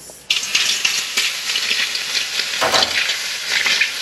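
Water ladled onto hot sauna stones inside a tent sauna at a lakeside campsite bursts into a loud steady sizzle and hiss, with a sharp flare of steam partway through, close and without talk.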